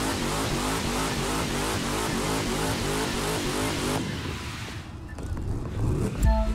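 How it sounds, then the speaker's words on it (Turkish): Car heating its tires in the racing game The Crew 2, a loud sustained engine roar with rapid pulsing, easing off partway, then a brief thump near the end. "Tekerleri ısıtıyoruz abi."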